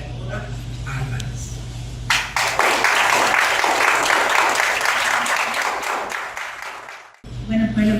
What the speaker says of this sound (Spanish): démosle un gran aplauso a esta joven brillante escritora notable internacional, María Auxiliadora Álvarez.